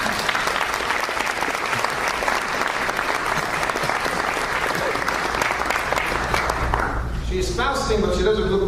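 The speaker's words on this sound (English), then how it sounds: "Please encourage her with a good round of applause." A dinner crowd at an interfaith gathering applauds a fasting girl with sustained, dense clapping that fills the room, then thins out near the end as a voice begins speaking over the last scattered claps.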